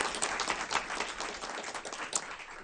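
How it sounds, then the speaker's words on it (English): A room full of people at a school board meeting applauds steadily, a dense wash of clapping with no voices over it. "Please give them a round of applause as well."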